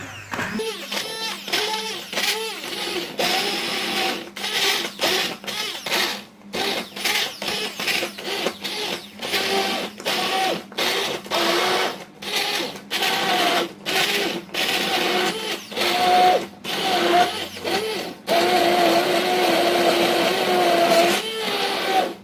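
Boiled lemon peels and water are ground in a blender for lemon jam, a loud close whirring motor in repeated bursts with brief pauses, then running continuously near the end.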